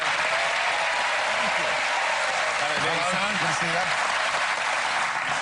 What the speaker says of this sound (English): give a warm welcome and a big round of applause for your host of the evening, Mr. Jonathan Ross